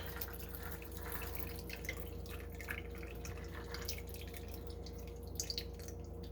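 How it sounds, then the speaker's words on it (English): Liquid drips and trickles as rice is strained while mixing a New Year's drink, a soft continuous patter of small drops over a low steady hum, with no talk. "strain the rice."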